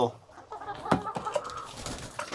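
A hen clucks close by in a village yard, a few short throaty clucks and calls over soft background noise.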